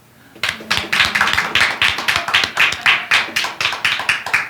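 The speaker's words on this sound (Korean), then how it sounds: "박수 좀 주세요" A church congregation claps at a Sunday service: loud, close claps from a group fall into a quick, fairly regular rhythm after a brief quiet start and continue throughout.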